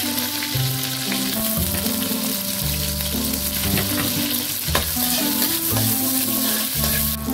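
Chopped garlic sizzles and crackles steadily in hot cooking oil in a pan, a continuous close frying hiss with occasional pops. A loud music track plays underneath and there is no talking.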